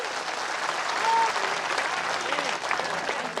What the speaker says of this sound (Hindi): ताली बजा सकते हैं आप लोग।